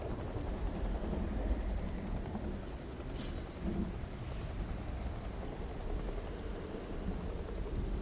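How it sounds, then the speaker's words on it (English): Steady heavy rain in a zombie video game, a constant close hiss of downpour with faint low rumbling beneath, unbroken throughout, no voices. "Will they be able to hear over the rain?"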